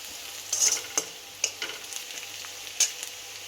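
Turmeric and masala frying in hot oil while chicken curry is being made, giving soft scattered crackles and a few sharp stirring clicks at a moderate distance, with no talking.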